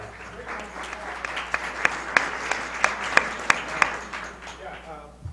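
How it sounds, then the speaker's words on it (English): Applause from a conference audience for a panel at the close of an employee retention discussion, with scattered sharp claps standing out over a softer wash of clapping, fairly quiet and brief. "Great round of applause for this panel."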